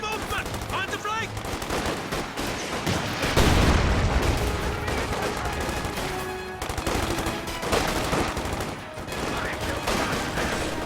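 Dense gunfire rattles through a Company of Heroes battle, with machine-gun bursts, single shots and heavy booms overlapping almost continuously, loud and close. A brief voice calls out during the fighting.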